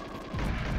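A sudden loud blast erupts in GoldenEye 007 after a quieter moment, with a deep rumbling boom that fills the rest of the short moment.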